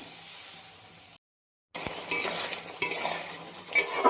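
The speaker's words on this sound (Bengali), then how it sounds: "মশলার সঙ্গে টমেটোগুলোকে ভালোভাবে কষিয়ে নেবো" Tomatoes and spices cook down in a pan with a broad frying hiss and scraping stirs, briefly cut off by a moment of silence before the sizzle and stirring resume.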